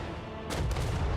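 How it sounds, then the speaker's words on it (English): A mortar in Total War: Warhammer 3 fires with a sudden broadband boom that rolls on into a sustained rumble, with steady battle noise before it. "Oh, they have mortars."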